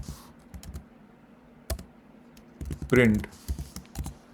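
Someone types Python code on a computer keyboard, with a few sharp, close keystrokes spread out amid quiet pauses while a person speaks over part of it.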